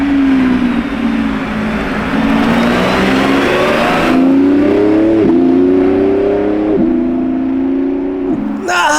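A blue Lamborghini Revuelto hybrid supercar revs loudly nearby, its engine note rising and dropping through several sharp gear-like shifts, ending with a bright burst, with faint voices in the background.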